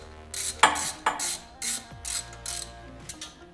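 A ratchet wrench tightens the bolts holding a TAB Performance 2-1-2 head pipe into the cylinder heads of a Milwaukee 8 motorcycle engine, giving about six or seven quick, close clicking bursts in an uneven rhythm with short pauses between strokes.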